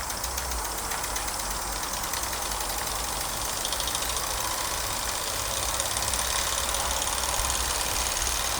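A Meccano toy steam engine runs in reverse gear, giving off a dense, steady mechanical chuffing and rattling that stays loud and continuous throughout.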